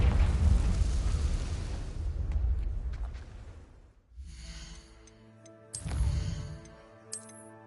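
A Confringo fire spell explodes in Hogwarts Legacy near an Acromantula cave, a loud rumbling blast that rolls on for several seconds before dying away, followed by quieter game sounds and a later sharp burst.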